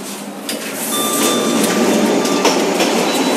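A train rolls past close by with dense rattling noise and a few faint high squeals, steady and loud, and nobody speaks.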